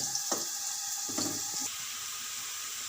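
Chopped onions fry in hot oil in a pot for a chickpea pulao, a steady close sizzle with a few brief clatters of stirring, then a softer hiss near the end.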